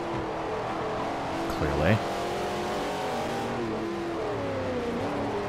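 Jaguar E-type fitted with an LS V8 engine revving in Forza Motorsport 4 during a race, a steady loud engine drone with rising pitch sweeps and a brief surge, under continuous talk.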